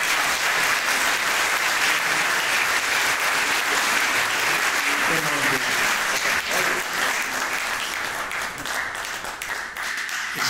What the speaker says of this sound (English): let's give Haim a round of applause